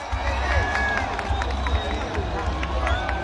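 A crowd at a gathering in Taunggyi cheers and claps, a steady lively hubbub of voices with shouts and whistles rising over it.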